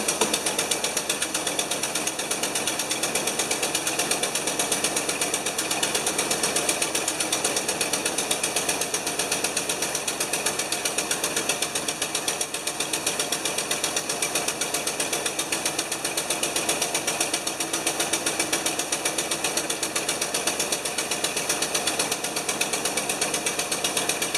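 A 1975 Lincoln Continental engine idles steadily with a leaking exhaust manifold, giving a continuous close mechanical clatter and ticking rattle with no pauses over the whole stretch.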